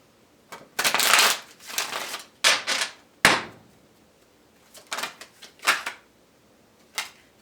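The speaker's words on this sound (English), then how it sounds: "Let's give this a good shuffle." A deck of tarot cards is shuffled close up in several quick riffling bursts separated by pauses, ending with a few soft taps, with no talk.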